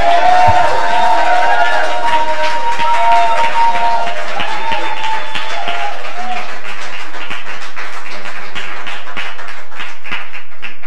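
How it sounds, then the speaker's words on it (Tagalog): Church congregation at an El Shaddai chapter service in Doha, Qatar, clapping together in praise, a dense steady wash of applause with scattered cheering and voices that thins out toward the end. "Grabe po yung palakpak niyo sa Lord."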